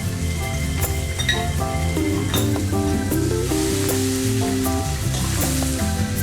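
Spices tipped into a pan of sizzling aloo matar, potato and peas, give a steady, close frying hiss and crackle that runs evenly throughout, with no voices.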